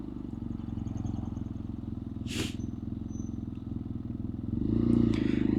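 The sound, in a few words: BMW F800R motorcycle being ridden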